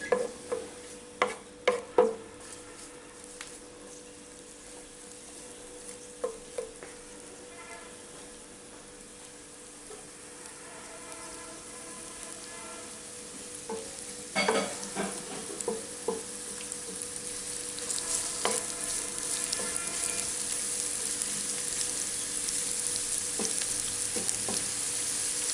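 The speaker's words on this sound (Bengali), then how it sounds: "এখানে আমি প্রথমে সয়াবিন তেল দিয়েছি, তারপরে পেঁয়াজ কুচি হাফ কাপ মতো দিয়েছি। এখন এগুলোকে আমি একটু ভেজে নেব।" Half a cup of chopped onion fries in soybean oil in a pan, with a soft, steady sizzle underneath scattered clicks and stirring knocks. The frying grows gradually louder and busier toward the end.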